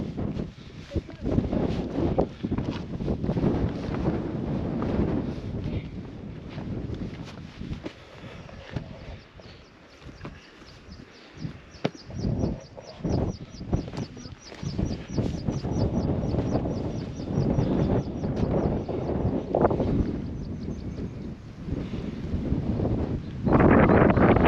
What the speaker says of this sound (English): You probably won't hear me when I'm up there because it's so windy.